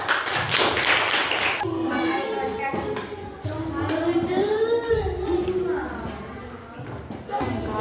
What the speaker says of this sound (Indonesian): silakan tepuk tangan untuk kelompok 1.